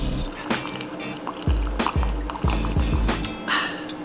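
Warm water is poured for honey whole wheat bread dough, splashing and gurgling in bursts with a few drips and clunks, fairly close and heard on its own.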